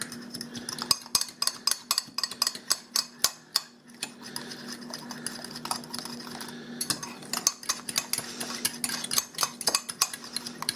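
A spoon stirs mac and cheese ingredients in a pot, scraping and clinking in a quick, steady rhythm of close metallic taps, fairly loud and heard alone.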